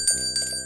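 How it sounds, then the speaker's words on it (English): A bright bicycle-style bell rings several quick times within under a second, clear and close with no voices. "Also don't forget to ring that bell."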